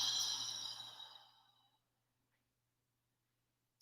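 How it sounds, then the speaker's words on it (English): One deep breath during a yoga abs and core session, in through the nose and out through the mouth: a single soft, breathy sigh close to the microphone that fades out over about a second and a half, then silence. "Now let's just take a deep breath to begin."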